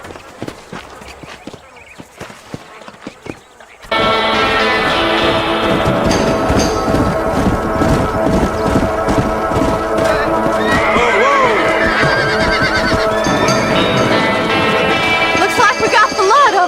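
In Red Dead Redemption, a herd of wild horses outside Armadillo neighs and whinnies loudly while hooves clip-clop and pound close by during a chase, with voices and game sound layered over them after a quieter opening.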